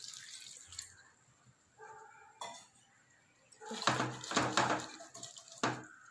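Water poured into a cooking pot of vegetables for a South Indian aviyal, with drumstick and brinjal, turmeric and salt: quiet splashing and pouring with light clinks of the pot, fairly close, with no talk.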